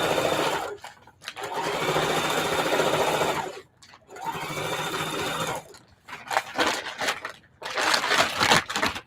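An older domestic sewing machine stitches through a feedbag tote, running in long steady bursts separated by brief pauses, then shorter choppy runs toward the end, close and loud with no talking.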